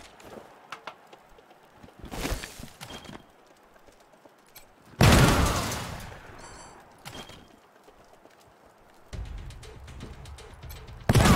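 Gunfire in the video game Wasteland 3: a few sharp, loud bursts spaced several seconds apart, each standing out from a quiet background, with a heavier, sustained volley near the end.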